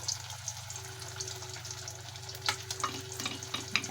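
Vegetables sauté in a pan with broccoli, onion and garlic, a soft steady sizzle under a low mechanical hum, broken by a few light scraping and clinking stirs toward the end.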